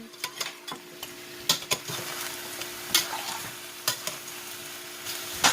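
Pork bones being stirred in a pot for sinigang, repeated clanks and scrapes of a utensil against the pot over a soft simmering sizzle, close and irregular, with no voices.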